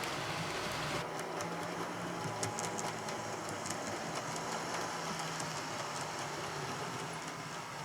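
An S-Stock London Underground model train in 00 scale runs steadily on track, giving a continuous low rumble with a faint clicking rhythm and a higher whirring layer that starts after a second, with no talking.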